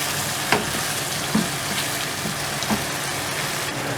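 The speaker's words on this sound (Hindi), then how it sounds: "इन टमाटो को सॉफ्ट होने तक इनको पकाएंगे" Tomatoes simmer and fry in a mutton curry masala with splashes of water: a steady, soft sizzle with a few faint pops and stirring clicks, fairly quiet and without talk.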